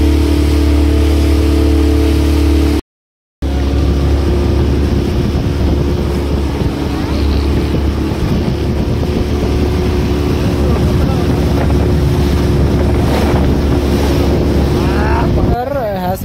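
A tourist motorboat ride on the water in Ooty, with a steady engine drone and wind buffeting the microphone throughout, loud and close, briefly cutting out near the start.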